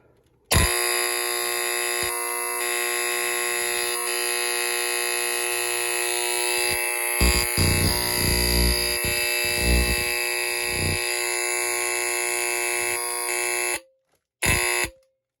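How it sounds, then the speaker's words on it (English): A Faraday 5910 fire alarm horn blares loudly and continuously, a harsh, buzzy game-buzzer tone that cuts out briefly near the end, then sounds again. "next up, the Faraday 5910 horn. This one sounds more like a game score buzzer."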